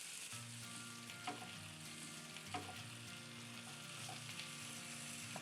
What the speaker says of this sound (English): now I just have to stir and start cooking the potatoes and onions